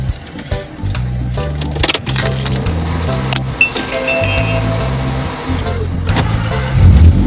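A car engine starts and idles just after its broken exhaust pipe and muffler were repaired, running with a steady rumbling rhythm close by, with light metallic clinks over it.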